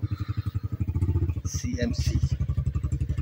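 A CMC SK200 motorcycle engine idles close by with a fast, steady putter, while someone speaks over the running engine.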